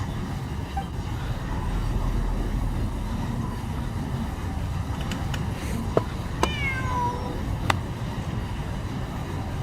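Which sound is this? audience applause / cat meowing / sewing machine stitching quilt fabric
cat meowing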